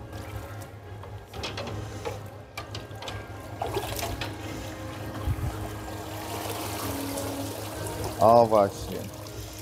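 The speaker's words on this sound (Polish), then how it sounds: "I będzie to myte pod zwykłą bieżącą wodą." Steel parts fresh from degreasing are rinsed under ordinary running tap water during zinc electroplating, a steady pouring wash with mechanical clatter over a low workshop hum, while a person talks nearby.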